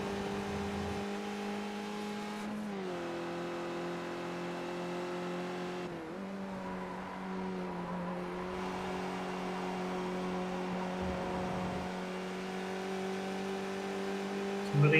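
Formula 4 racing car engines drone steadily in a sim racing league race at Silverstone, a sustained high-pitched whine that dips briefly on lifts and gear changes before climbing again, fairly loud and with no talking.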